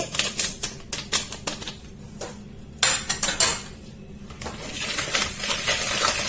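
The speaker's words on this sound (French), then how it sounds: "J'essaie de mélanger un petit peu jusqu'à ce que je vois un petit peu que le sucre il a fondu quand même." Egg and vanilla sugar being mixed in a bowl, heard as rapid clinking taps of a utensil against the bowl in quick bursts with short pauses, close and fairly loud, ending in a steadier scraping swirl.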